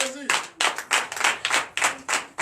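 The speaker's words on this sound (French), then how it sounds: "Tu donnes l'acclamation à notre Seigneur Jésus" A church congregation at a Sunday service in Bénin claps in rhythmic bursts, loud and close, with a voice briefly heard at the start.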